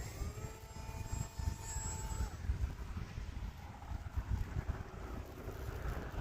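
Gusty wind buffets the microphone outdoors in a low, rumbling roar while a HobbyZone Aeroscout S 1.1m RC plane is flown. A faint high motor whine fades out in the first few seconds.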